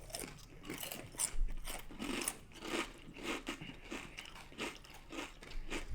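Carolina kettle cooked potato chips crunched close to the mouth, a run of crisp, crackly bites and chewing in an uneven rhythm, fairly quiet with no speech.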